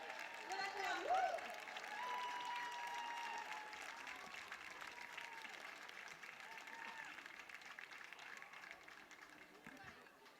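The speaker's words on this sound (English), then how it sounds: "so give him a big cheer" Crowd at an international athletics meeting in Cork cheering and applauding a very young runner, a broad wash of clapping and cheers sustained for several seconds, mixed with shouts and voices across the stands.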